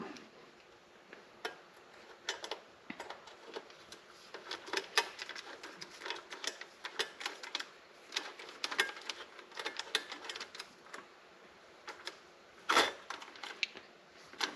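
Small screws being set loosely into a waterproof case for an Icom IC-705 radio, heard as a scattered series of light, close ticks and clicks with brief pauses between them.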